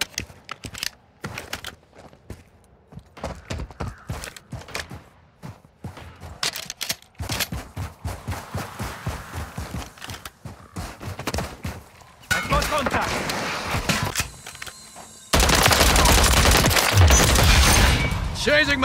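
Gunfire in Call of Duty Modern Warfare III, dense rapid shots and bursts crackling one after another, building to a loud, sustained barrage near the end.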